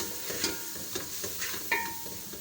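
Spices and turmeric stirred into hot oil in a pan make a soft, low sizzle, with a spoon scraping the pan in a loose repeated rhythm.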